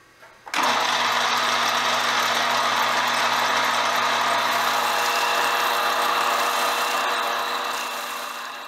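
A belt sander running against a machined metal gun part to round it, a continuous steady whir and grind that starts abruptly and holds near and loud for several seconds.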